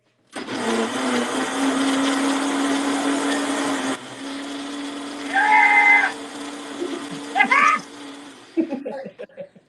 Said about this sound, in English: I gotta only turn the blender on, so you may not be able to hear me for a minute